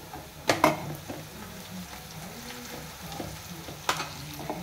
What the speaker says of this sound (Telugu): కరివేపాకు వేద్దాం కొద్దిగా.